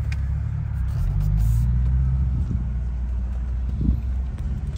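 A 2008 BMW 550i E60 with a muffler delete pulls away, a loud low exhaust rumble that swells and then settles into a steady drone with wind noise.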